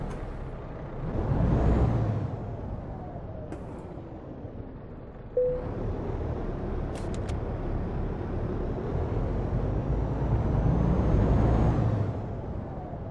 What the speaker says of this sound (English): Get the truck started up.